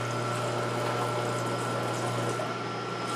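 Angel juicer pressing leafy greens, a steady mechanical grinding hum with a constant low motor tone, close and unbroken for a few seconds, no talking.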